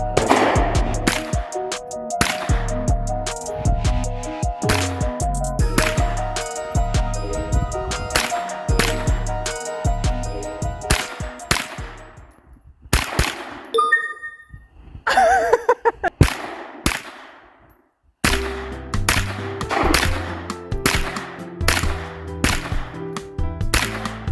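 A Smith and Wesson Shield Plus pistol fitted with a CMMG .22LR conversion kit fires at an outdoor range, a series of loud, sharp cracks in uneven bursts with a brief quiet gap partway through.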